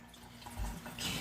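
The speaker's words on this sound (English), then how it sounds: "I'm just going to give this a quick rinse off from my cucumber juice" A plastic container is rinsed under a running kitchen tap, the water rushing steadily and growing louder near the end as the stream hits the container.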